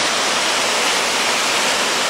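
A waterfall along the Union Canal produces a constant broadband rush of falling water, loud and unbroken, with no voices.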